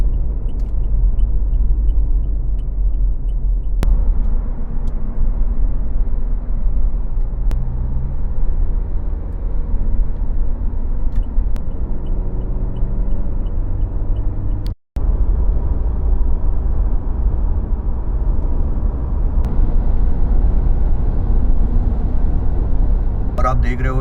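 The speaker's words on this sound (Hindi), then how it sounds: "आप देख रहे हो कि गाड़ियाँ कितनी मस्त चल रही है, रोड्स कितने अमेजिंग हैं" Cars driving along roads in Dubai, UAE, heard as a steady, loud low rumble of road and engine noise that runs unbroken for the whole stretch, with a faint murmur of voices at times and a brief dropout midway.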